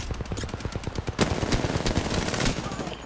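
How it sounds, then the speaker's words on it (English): Rapid automatic gunfire in the game Apex Legends, a dense close rattle of shots in quick rhythm with heavier bursts layered in, loud and continuous across the moment. "I'm shooting, I can't help it."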